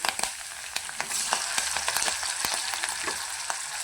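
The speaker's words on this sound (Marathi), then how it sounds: "कढीपत्ता चांगला तेलामध्ये फ्राय करून घ्या" Curry leaves, garlic and spices fry in hot oil, giving a steady close crackling sizzle with scattered sharp pops and stirring scrapes, and no voices.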